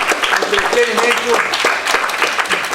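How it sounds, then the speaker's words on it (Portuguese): A crowd at an evening university briefing session applauds for the staff, a dense, steady clapping wash filling the clip with speech mixed in on top. "uma salva de palmas, por favor"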